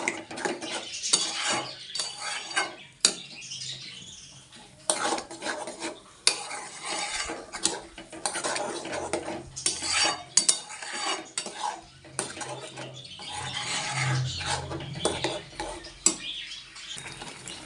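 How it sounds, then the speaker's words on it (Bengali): Taro chili paste being stirred in a pan, with a utensil scraping and clinking against the metal in a steady, busy rhythm close by, a faint sizzle underneath, and no talking. "এবার এটা নাড়তে থাকতে হবে।"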